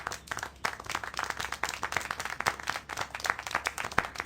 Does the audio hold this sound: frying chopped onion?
no